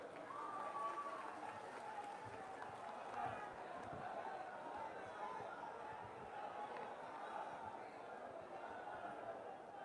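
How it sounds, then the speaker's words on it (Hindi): A large outdoor crowd at a Congress political rally in Varanasi applauds in a broad, distant roar that holds steady throughout, with faint voices beneath it. "जोरदार तालियों से स्वागत करें"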